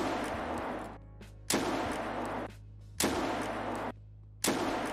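In the video game Escape From Tarkov, an RH12 revolver fires four loud, sharp shots about one and a half seconds apart. Each shot booms and then fades back to quiet.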